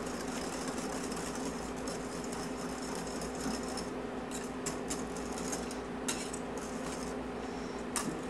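Metal whisk beating cucumber, avocado, cilantro and lime soup ingredients together in a bowl, a steady close scraping clatter with sharper clinks near the end and no talking.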